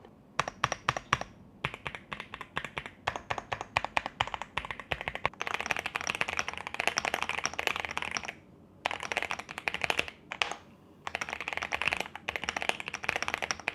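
Typing on a computer keyboard during a sound test, with rapid, close clicking keystrokes in dense bursts and short pauses between runs.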